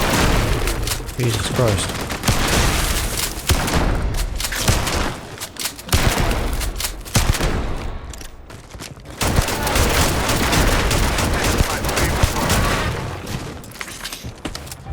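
Weapon fire in Starfield: dense, loud bursts of rapid gunshots and booms in repeated volleys with brief pauses, and a voice exclaims once over the shooting.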